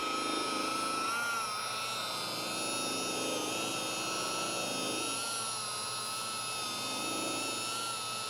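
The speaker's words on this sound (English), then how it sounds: "I do have to tilt the polisher ever so slightly to get in some of these areas" A polisher runs continuously over a heavily soiled cloth car seat during dry foam cleaning, a steady whirring motor hum with slight changes in pitch as the tool is tilted into recessed areas.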